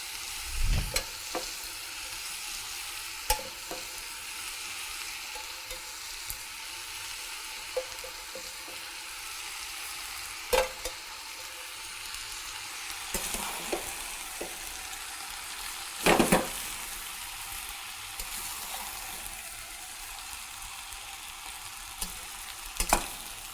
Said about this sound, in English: Then after saute our condiments, we add steamed rice.